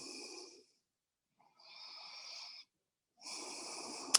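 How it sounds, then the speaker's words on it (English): Deep breathing during a yoga session: three slow, airy breaths, each about a second long, drawn close to the microphone and separated by silence, with a faint wheezing, hissing texture and no talking. "So take a couple breaths here."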